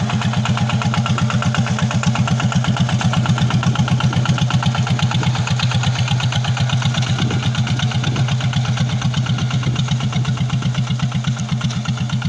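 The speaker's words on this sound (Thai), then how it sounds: "เครื่องตัวนี้ก็จะเป็นเครื่อง ยันมาทีเอฟร้อยสิบห้านะครับ" A Yanmar TF115 single-cylinder diesel engine on a walking tractor idles nearby with a steady, fast thumping chug that continues evenly throughout.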